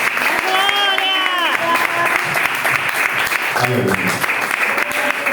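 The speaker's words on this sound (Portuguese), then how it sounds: "E as palmas do meu Senhor." Congregation applauding in a church service, dense sustained clapping throughout with singing or voices rising over it and someone speaking briefly near the end.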